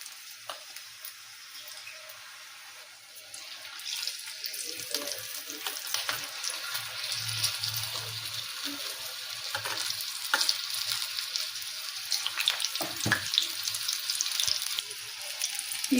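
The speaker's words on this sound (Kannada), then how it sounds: "ಈಗ ಬಿಡ್ತೀನಿ ನೋಡ್ರಿ ಮೆಣಸಿನ್ಕಾಯಿ ಬಜಿನ" Chilli bhajji frying in hot oil, a steady crackling sizzle with scattered pops and bubbling that swells as the battered chillies go in, close and continuous without speech.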